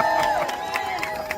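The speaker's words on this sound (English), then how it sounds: "Give him a round of applause." Crowd cheering and clapping at a live event, a dense steady wash of noise with some excited shouts sitting under an announcer's voice.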